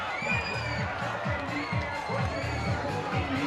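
Baseball crowd at historic Holman Stadium during a championship game, a steady roar of cheering and shouting from the stands, loud and continuous, with a rhythmic low musical pulse underneath.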